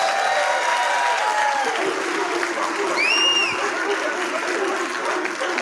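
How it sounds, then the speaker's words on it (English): A crowd at a live high school Football Friday broadcast applauds the head coach, a steady moderate wash of clapping heard from some distance, with a voice speaking over it and a short electronic tone partway through. "can you give your head coach a little applause?"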